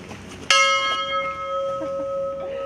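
A single bell at a Bordeaux wine château is struck once, close and loud, its clear metallic tone ringing on and slowly fading over a couple of seconds.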